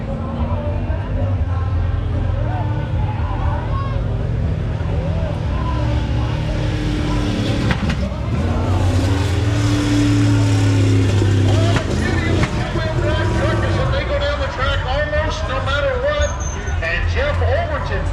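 A turbocharged small-block truck spools up and revs hard at a truck pull, its loud roaring engine surging and swelling amid crowd noise and an announcer's voice.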